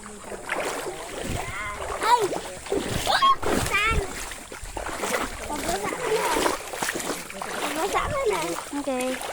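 Water splashing and sloshing as people wade through a shallow river in Bicol, continuous irregular splashes close by, with people talking throughout.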